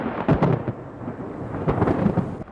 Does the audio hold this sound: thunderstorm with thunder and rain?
yes